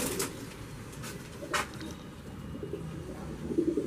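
An Aakash breed pigeon coos softly among a breeder's birds, low murmuring calls heard faintly and close, with no talk over them.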